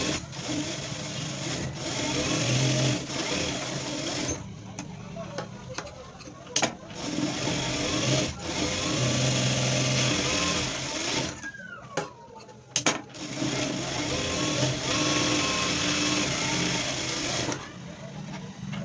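A sewing machine stitches a blouse in quick motor bursts of two or three short runs, close and fairly loud, broken by pauses, with someone talking over it throughout.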